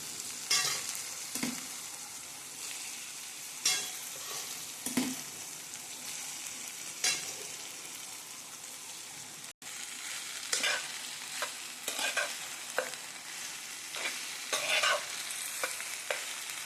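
Okra with tomato sizzles steadily in a hot pan, with a spoon scraping and stirring through it every few seconds in sharp, close strokes over the constant frying hiss.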